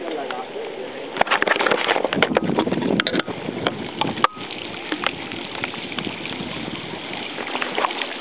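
Continuous rushing and trickling of floodwater in a flooded street in Vicenza, with scattered splashes and knocks over the steady wash.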